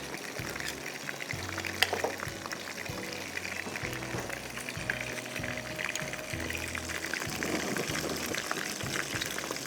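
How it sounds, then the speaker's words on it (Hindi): Popcorn shrimps fry in hot oil with a continuous close crackle and sizzle and scattered sharper pops throughout, without speech. "ये मैं अपने पॉपकॉर्न श्रिम्प्स को फ्राई कर रही हूँ।"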